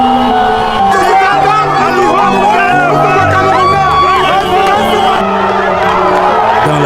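A huge street crowd in Yaoundé celebrates Cameroon's Indomitable Lions after their 2017 Africa Cup of Nations win, with dense cheering, whistles and shouts close by and continuous, joined by horns and a general babble of voices.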